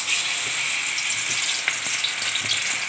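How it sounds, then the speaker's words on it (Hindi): Spinach pakoras sizzle steadily in hot oil in a home kitchen, a dense, even frying hiss close by with faint crackles throughout and no talk. "ये पालक के पकौड़े डालने लगी हूँ मैं"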